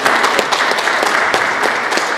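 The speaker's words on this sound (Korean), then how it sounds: "이지연 작가님 박수 받게" Audience applause for an artist at a women's art event, loud continuous clapping from a nearby crowd with a few sharper individual claps standing out.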